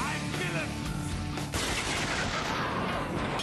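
Gunfire in the video game Spec Ops: The Line, a dense, continuous burst of shots and rattling fire filling the whole stretch, loud and close, with a sharp jump in intensity partway through.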